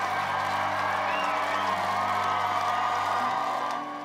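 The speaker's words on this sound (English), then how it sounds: "The applause, the cheers as they drove through Windsor were deafening" A large crowd cheers, whoops and applauds as a wedding carriage drives through Windsor, forming a steady, roaring wall of noise over a low engine hum that eases off at the end.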